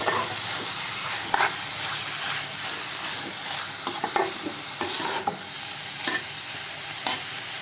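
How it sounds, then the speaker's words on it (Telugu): Chicken fries in a pan for a tomato chicken gravy, giving a steady sizzle close up, punctuated by repeated scraping stirs and clinks of a spoon against the pan, with no one speaking. "ఈ చికెన్ పచ్చి వాసన పోయేంత వరకు బాగా కలుపుతూ ఉండాలి"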